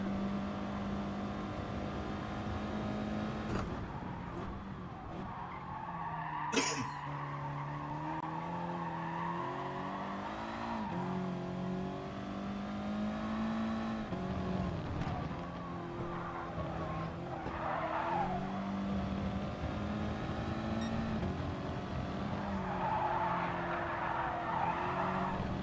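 Race cars skid and squeal around the track in the GT Sport racing game, with engine tones shifting and sweeping through rapid gear changes, heard loud and continuous throughout.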